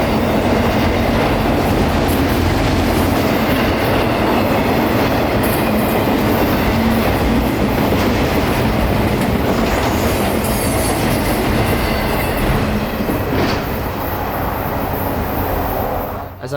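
A long freight consist of phosphate and ethanol unit trains rolls past close by, a loud, continuous rumble of railcars with steady wheel noise and occasional squeal that holds for the whole stretch before easing slightly at the end.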